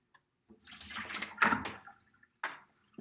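Rinse water used for tempera paint is dumped out of a cup into a classroom sink, a short splashing pour followed by a couple of quick trailing splashes, close and moderately quiet.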